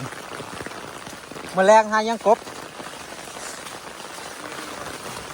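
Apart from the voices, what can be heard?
heavy rain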